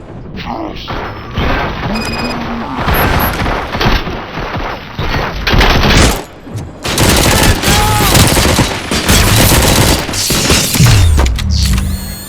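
Gunfire in the RoboCop video game comes as loud, dense bursts of automatic fire and mechanical clanking, broken by short pauses, with game effects and metallic whirs mixed in.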